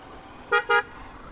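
Two short, bright horn honks in quick succession from a Honda Shine 125 motorcycle, close by over a low steady background hum.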